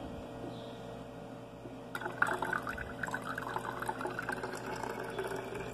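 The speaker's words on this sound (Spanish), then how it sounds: "Un buen chorrito de vinagre." Vinegar is poured into a container of water while mixing a homemade degreaser, a quiet gurgling splash that starts about two seconds in and continues steadily.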